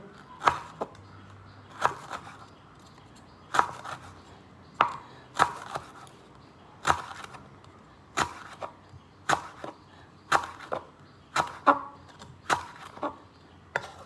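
A knife chops food during Thai home cooking, about a dozen sharp, close knocks falling in a steady, unhurried rhythm with no talk over them.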